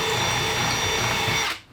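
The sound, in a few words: power drill drilling out holes in a boat transom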